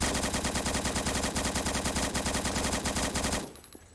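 Sustained rapid automatic fire from an AK-103 rifle in Blackhawk Rescue Mission 5, a loud, dense burst of closely spaced shots lasting over three seconds before cutting off abruptly into a quiet tail.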